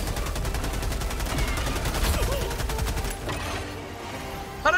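Rapid gunfire fills a Helldivers 2 video game battle, a dense, loud stream of repeated shots that thins out near the end before a final burst.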